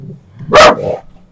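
Indoors, a dog lets out a single sharp bark, close and loud, tailing off into a softer yelp against a quiet room.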